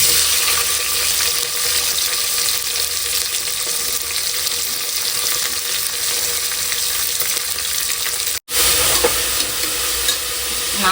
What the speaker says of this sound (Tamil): கருவேப்பிலை வெங்காயத்தையும் போடுறேன் கூட வந்து ரெண்டு பச்சை மிளகாய் வச்சுருக்கேன் அதையும் போட்டுக்கிறேன்